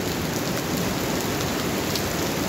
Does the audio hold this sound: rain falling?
yes